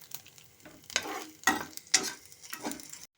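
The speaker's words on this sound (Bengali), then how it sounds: "চীনাবাদাম আর নারকেলটাকে ভালো মতো করে একটু ভাজা ভাজা করে নেব" Peanuts and grated coconut roast in a pan over medium heat, stirred in a series of rhythmic scraping strokes with a light sizzle, close and moderately loud, and no talking.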